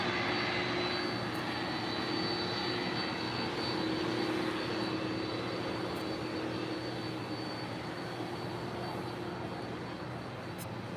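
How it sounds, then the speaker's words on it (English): An MD-11 airliner arriving at LAX, a steady broad engine roar with a faint hum holding for the whole span, fairly distant and even, with no talk. "Should we end it with an MD-11 arrival?"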